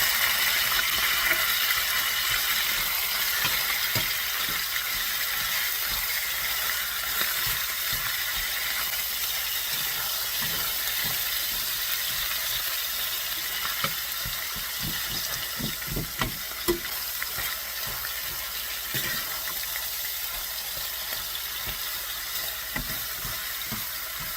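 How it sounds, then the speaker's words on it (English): Ground elk meat browns in a hot pan with a steady, dense sizzle and crackle, broken by occasional scraping and stirring clicks. No one speaks. "I'm browning the meat here"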